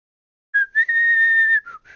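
A person whistles a single sustained, steady note with a brief pitch dip at the start, followed by a couple of short falling whistled tones, close and clear with no talk.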